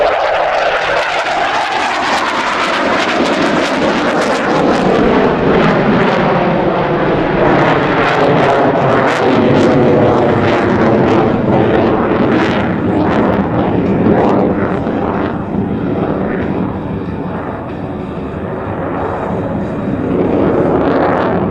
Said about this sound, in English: F-18, a world-class fighter that is feared worldwide.